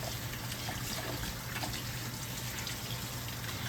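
Tap water running steadily while someone washes their hands in a cold home kitchen, a continuous close trickling stream with no voices.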